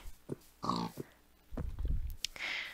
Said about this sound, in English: press the button, you get a Minecraft pig